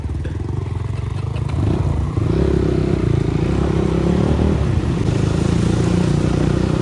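Motorcycle ridden on a dirt track, a close, steady engine drone with a rougher surge partway through, overlaid by constant rattle and wind noise.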